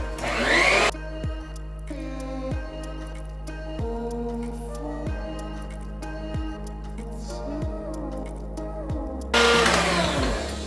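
An electric mixer whipping egg whites for angel food cake, a steady motor hum with a repeating rhythmic pattern of dips and swells, louder bursts at the start and end.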